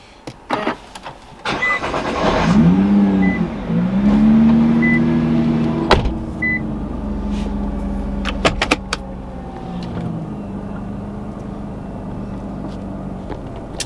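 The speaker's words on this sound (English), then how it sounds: "I love all of the mechanical sounds that you hear with the GTR." Close mechanical whirs, clicks and a rising motor whine from a Nissan GT-R, followed by a steady low engine hum with occasional sharp ticks.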